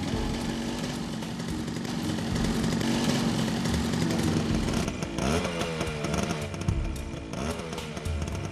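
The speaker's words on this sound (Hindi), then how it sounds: "तभी मैंने एक मोटरसाइकिल देखी।" A motorcycle engine drones loud and steady throughout, its rough buzzing tone shifting slightly in pitch partway through, with no voices heard.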